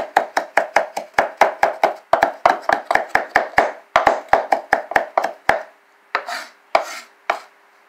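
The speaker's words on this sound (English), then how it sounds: "you can get them chopped up to the size you want" A knife chops purslane leaves on a board in a steady run of sharp, close taps at first. The strokes then slow to a few scattered, scraping cuts.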